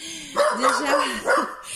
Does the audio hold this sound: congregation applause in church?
no